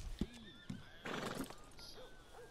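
A horse whinnies in Red Dead Redemption 2, with a Missouri Fox Trotter mentioned: a few short, close, quiet neighs and snorts with rising and falling pitch, alone and without talk.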